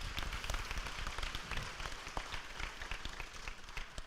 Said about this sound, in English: I just want to applaud all the parents and all the people that came and support.